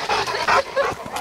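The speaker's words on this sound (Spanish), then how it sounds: "Bonitos los perros." Several dogs let out a quick run of short, sharp barks and yips close by, packed into just over a second.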